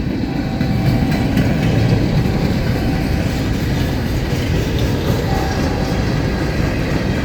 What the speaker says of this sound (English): Alright, here comes the southbound off the Waycross line.